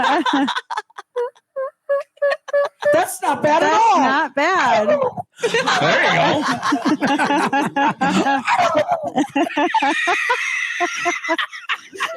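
People take turns imitating a turkey's gobble with warbling, throaty calls, broken up by laughter and short bits of talk.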